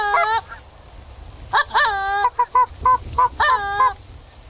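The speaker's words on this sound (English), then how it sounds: "the geese just kept coming" Geese on a hunt honk loudly overhead, a burst of harsh, nasal calls at the start and then a rapid run of repeated honks, close and unaccompanied by talk.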